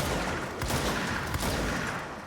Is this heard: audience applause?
no